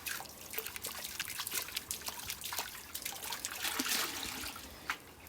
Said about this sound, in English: Gold panning lessons right here from the expert.